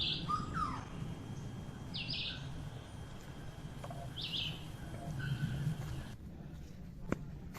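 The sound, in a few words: birds singing along the Itupava trail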